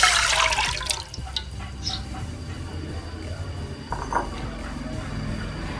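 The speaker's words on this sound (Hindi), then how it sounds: "तो सबसे पहले हम डालेंगे इमली का पल्प।" Tamarind pulp pours into a bowl while chana chaat is being made, a soft wet splash and trickle that fades into quieter liquid sounds and faint clinks, close by with no talk.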